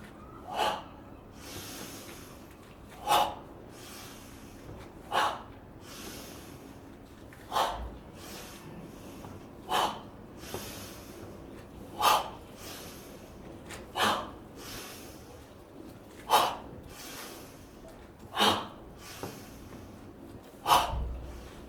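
Forceful, explosive exhalations during a breathing exercise, repeated about ten times at a steady rhythm roughly every two seconds, each a sharp puff against a quiet background.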